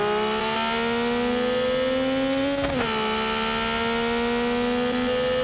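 A game car engine held at a high, steady rev near an 11,000 RPM limit on launch, a loud buzzing whine that dips briefly midway and then climbs again, with no talk.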